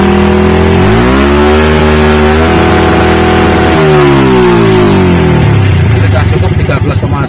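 A Honda Blade motorcycle engine revs hard and loud, pitch climbing, holding high, then sliding back down before rising into another rough, close rev.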